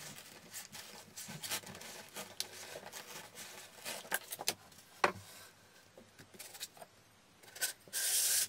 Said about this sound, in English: cut the insulation pipes for the rolls by using a cutter knife